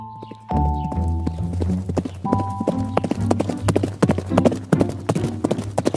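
A horse gallops with quick, steady clip-clopping hooves, close and distinct, set against sustained musical tones throughout.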